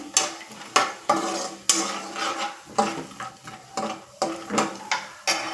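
Pieces fry in a pan for cucumber chutney while a spoon clatters against the metal in repeated stirring strokes. A light sizzle runs underneath, and no one speaks.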